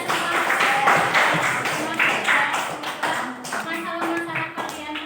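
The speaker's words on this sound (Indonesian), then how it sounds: "Mungkin tepuk tangan untuk kita semua." A classroom of students clapping their hands together, dense overlapping claps with some voices and shuffling mixed in.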